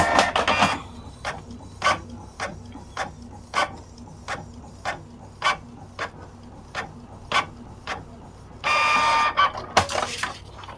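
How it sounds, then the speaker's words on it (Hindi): A Canon Pixma G2020 printer prints a page with a steady series of short mechanical pulses about every half second, then a longer whirring burst near the end, close and alone. "तो मैं ये सिस्टम से इसको प्रिंट दे देता हूँ।"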